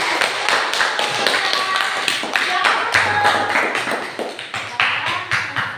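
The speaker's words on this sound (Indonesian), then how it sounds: "Kita berikan tepuk tangan." A classroom group claps in a scattered, uneven rhythm, close and fairly loud, with rapid taps continuing to the end and some voices mixed in.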